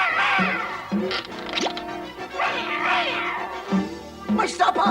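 Cartoon cat meows from the Smurfs cartoon, several drawn-out, wavering yowls with speech-like sweeps, loud and close and repeated across the clip over busy cartoon background sound.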